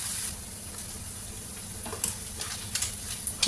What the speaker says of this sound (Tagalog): iprito yung chicken gizzard na pinalambot ko kanina